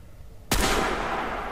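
A single sharp gunshot cracks out in the video game Crysis 3, loud and sudden, followed by a long, noisy echoing tail.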